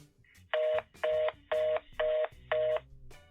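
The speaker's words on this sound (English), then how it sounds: "So let's give it a call and see if we get a cool voicemail." Telephone keypad dialing tones: five evenly spaced, loud beeps, each about a quarter second long, with short gaps between them and no talking.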